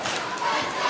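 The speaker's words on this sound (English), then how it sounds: "The Georgia crowd" Georgia home crowd at a college basketball game roaring in a dense, sustained wash of cheering, loud and close for a brief moment.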